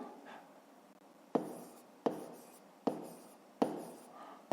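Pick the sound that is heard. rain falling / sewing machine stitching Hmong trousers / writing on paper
writing on paper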